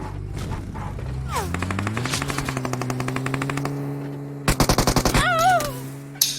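Rapid automatic gunfire and sniper shots from a battle royale video game, with a sustained rhythmic burst of fire followed by a second sharper volley, loud and close.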